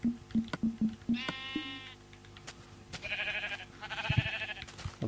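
Sheep in the Minecraft video game give three drawn-out, wavering bleats, clear and fairly close, after a run of short clicking game sounds.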